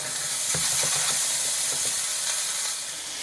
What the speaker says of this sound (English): Just frying off the sauteed potatoes.